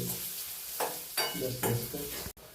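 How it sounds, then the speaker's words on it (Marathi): Onion frying in oil in a pan, a steady close sizzle broken by a few scraping stirs, with a short cut near the end. "पाच मिनिट आपण कांदा लाल भाजून घेऊ चांगलं तेल टाकून घेतलं"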